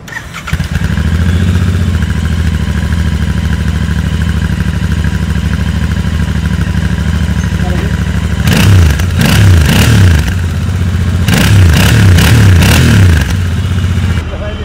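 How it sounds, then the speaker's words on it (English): A Royal Enfield Continental GT 650 motorcycle starts and idles with a loud, steady rumble, then revs in two bursts of sharp throttle blips near the listener, with a voice speaking briefly over the engine. "So let's crank the motorcycle."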